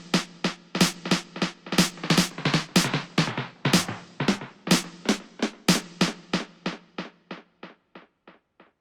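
Snare drum hits run through a Valhalla Delay plugin in single mode, with identical delay length and modulation on both channels; a rapid train of crisp repeating cracks gradually decays and fades over several seconds, with no voice.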